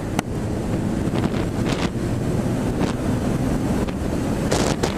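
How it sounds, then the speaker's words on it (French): Steady, loud wind buffeting a motorcycle helmet microphone while riding a Honda CBR 1000 F, a constant roaring rush with occasional gusty thumps and no voices. "Parce qu'il y a pas mal de vent."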